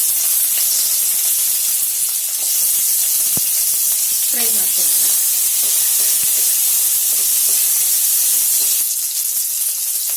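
Small onions, green chillies and curry leaves fry in hot oil with a loud, continuous sizzling hiss close up, and a few soft stirring knocks within it.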